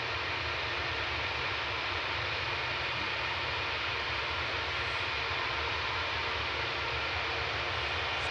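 An Airbus A319 airliner departs Manchester Airport, making a loud, steady broadband roar of jet engines that holds level and unbroken throughout.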